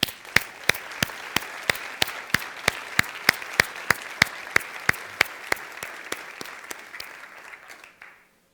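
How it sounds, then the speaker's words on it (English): An audience at a civic State of the 'Ville 2021 address applauds with evenly paced, sharp claps over a soft hiss, steady for several seconds before stopping abruptly. "applause."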